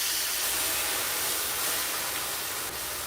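Steam hisses steadily from an air fryer cooking BBQ chicken breast and baked potato, a loud broadband rushing hiss that holds evenly throughout without talking.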